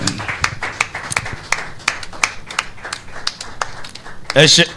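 Congregation clapping in rhythm to acclaim Jesus at a morning prayer gathering, sharp steady claps at a brisk even beat throughout, ending in a louder burst of voices.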